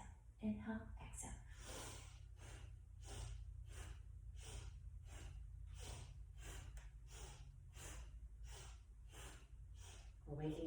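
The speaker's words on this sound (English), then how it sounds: "inhale, exhale, inhale," Rhythmic yoga breathing during a Kundalini practice, steady repeated inhales and exhales in a regular pulse lasting several seconds, heard close up with a low background hum.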